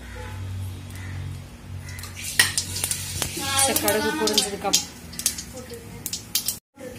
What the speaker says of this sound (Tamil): அதுக்கப்புறம் கடுகு போடுறேன். கடுகு பொரியட்டும்.